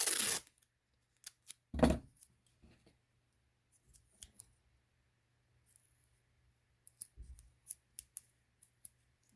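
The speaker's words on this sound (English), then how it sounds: "I'm just going to get some masking tape. And I'm going to put a piece of tape right on that line." Masking tape torn and pressed onto a bamboo fly rod at a ferrule witness mark: a few sharp ripping crackles and small taps spaced through near silence, close and faint.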